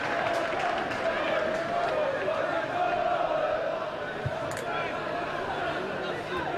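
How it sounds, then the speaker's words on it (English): A crowd at an English football match roars on its home side, Wycombe, against Macclesfield Town, a dense, continuous wash of chanting and shouting that carries on unbroken, with a commentator's voice faint beneath it. "The crowd still urging on the Blues despite being 3-0 down."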